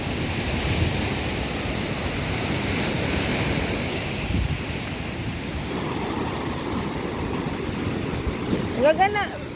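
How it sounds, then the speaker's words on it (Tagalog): Loud, continuous ocean surf crashing and rolling nearby at Mauban, Quezon, with strong waves, wind buffeting the microphone and a brief voice near the end. "Lakas ng alon, tatangayin tayo."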